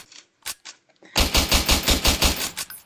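A gun in a Roblox game fires a quick burst of about eight loud, evenly spaced shots after a few faint clicks and handling sounds.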